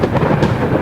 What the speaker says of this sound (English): better go before the storm gets too bad